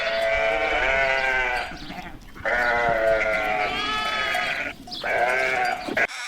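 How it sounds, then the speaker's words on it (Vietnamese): A sheep bleats loudly and close by in three long, quavering calls. Short breaths or gaps separate the calls, and no one speaks. "Con cừu."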